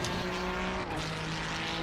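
A race car engine in the Assetto Corsa Competizione racing game at the Hungaroring gives a steady, loud droning hum with a constant pitch for the whole stretch, with no talking.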